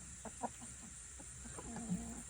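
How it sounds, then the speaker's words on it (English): Soft, close clucks and low murmuring from a rooster, spaced irregularly over a steady background hum. "You're safe, rooster, for now."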